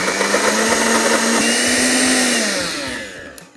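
A loud blender mixing vegan gluten-free meatball ingredients whirs with a steady motor hum that holds briefly, then winds down and cuts off.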